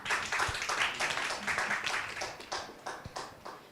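An audience at a business competition championship round claps to welcome a team onstage, a thin, fairly quiet patter of hand claps that rises and thins out over a few seconds.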